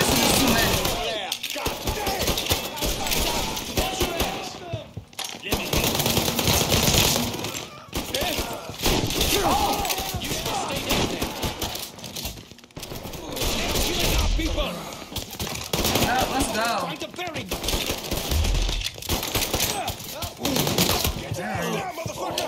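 Sustained machine-gun fire fills the scene in the video game Mafia 3, a dense, continuous clatter of covering shots under a talking voice, with brief gaps between long bursts.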